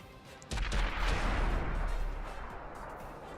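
A heavy tank cannon booms in a World of Tanks match against Conqueror tanks, one sharp loud blast with a rumbling low tail that fades over a few seconds, with no voices.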